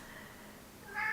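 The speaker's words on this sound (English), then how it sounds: "That's my cat screaming in the background." A house cat lets out a brief, strained scream that rises at the end, heard faintly in the background.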